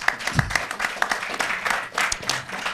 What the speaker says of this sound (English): Let's clap for Fraser Campbell.